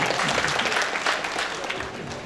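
Scattered, fairly weak audience applause at a tech conference keynote session, continuous clapping that slowly fades over a couple of seconds.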